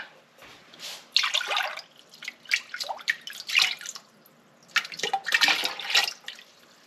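Water from a tap splashes and pours in irregular bursts, loud and close, with brief pauses between streams as the tap is turned on and off.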